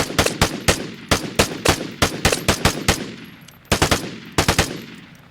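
Bursts of M16 rifle fire in the video game Vigor ring out as loud, sharp single and double shots in irregular clusters, each crack followed by a short decaying echo.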